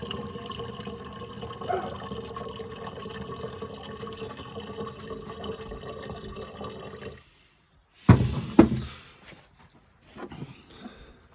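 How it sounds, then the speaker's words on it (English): Water poured into a container being filled a little more, a steady liquid wash for about seven seconds, then a near-silent pause broken by a few loud, brief splashes and knocks. "if we were to fill that with a little more water"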